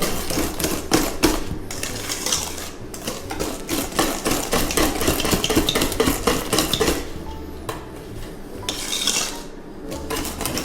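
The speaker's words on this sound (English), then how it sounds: "I'm just gonna whisk that in as well" A whisk clatters rapidly against a bowl while baking soda is beaten into banana bread batter, a fast, busy metallic tapping that runs close and loud with brief pauses.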